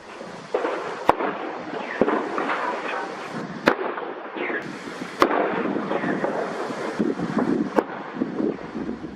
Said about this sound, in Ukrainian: на відео, що вони самі ж опублікували, можна почути та побачити детонацію боєприпасів